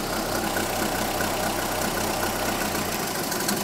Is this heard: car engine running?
yes